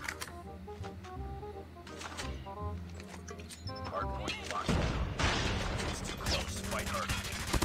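Weapon reload in a hardpoint match of an online shooter: quick mechanical clicks and metallic clacks up close, followed by a dense burst of gunfire and crashing noise that fills the rest.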